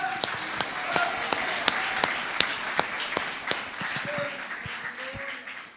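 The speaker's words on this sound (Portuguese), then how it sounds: "Uma salva de palmas ao Espírito Santo." Applause rises from a church congregation honouring the Holy Spirit, a dense wash of many hands clapping steadily with some sharper individual claps standing out, loud and continuous throughout.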